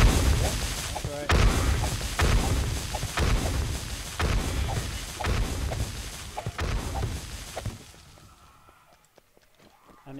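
Repeated loud explosions boom in quick succession, each with a rumbling tail, before the sound falls off to near quiet at the end.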